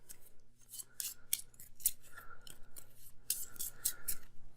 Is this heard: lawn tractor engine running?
no